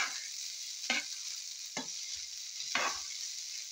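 Leftover day-old rice frying in a pan with garlic, a steady sizzle broken by three louder scraping stirs, close and alone with no voices.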